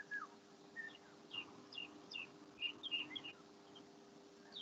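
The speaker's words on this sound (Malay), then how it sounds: "Wah, rumah siapa tu bunyi burung?" Small birds chirp outside a house in short, high, scattered calls at a faint, distant level, repeating irregularly over a steady low indoor hum.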